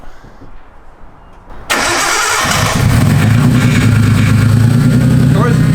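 A turbocharged Nissan Skyline engine cranks and catches abruptly, then settles into a steady, loud idle that continues without a break.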